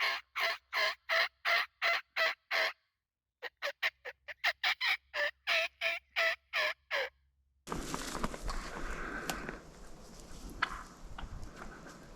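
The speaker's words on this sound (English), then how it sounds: "That turkey just walked right up behind me." A wild turkey gobbles loudly in rapid, rhythmic bursts, two series of sharp rattling calls, followed by rustling and outdoor ambience in spring timber in Washington State.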